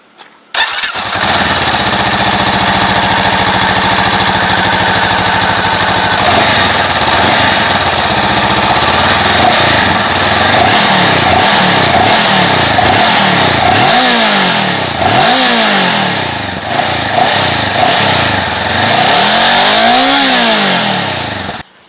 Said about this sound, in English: how does this new parallel twin sound? Let me show it to you.